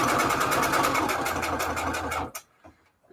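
A sewing machine stitches paper envelopes in a steady, fast mechanical whir that runs loud and close for about two seconds, then stops abruptly, leaving a few faint clicks and handling noises.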